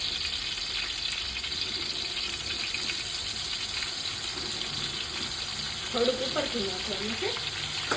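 Sliced onions sizzle steadily in hot oil in a pan for a Gujarati whole-onion curry, and around six seconds green garlic drops in, followed by brief stirring clatter and a louder burst of sizzling.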